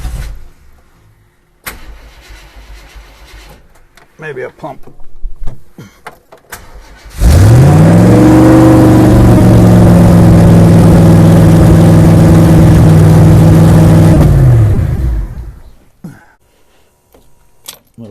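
A classic Ford wagon engine cranks and catches, then runs steadily and loudly close by for several seconds before shutting off, with quieter shuffling and a brief spoken remark beforehand.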